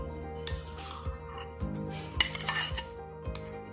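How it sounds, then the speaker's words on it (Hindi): Cooked chicken being mixed with mayonnaise in a bowl, a series of rhythmic spoon scrapes and clinks against the dish, quiet and close, with no talk. "चिकन ठंडा हो गया, अब इसमें मेयोनीज मिक्स कर लेंगे।"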